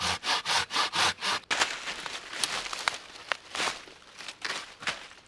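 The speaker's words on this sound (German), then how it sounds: "Sondern brauche die Säge." A hand saw rasps through tough bark, first in about six steady, even strokes, then in rougher, irregular scraping and crackling passes, close up with no talking.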